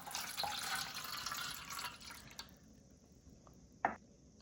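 Water poured into a wide bowl while making perugu vada: a soft, continuous trickling splash that stops partway, followed by a single small drip or clink, quiet and close.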